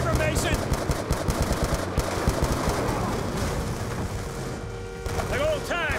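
Sustained machine gun fire from a truck-mounted gun in the Call of Duty Black Ops 2 video game, rapid loud bursts with shouted voices over the gunfire.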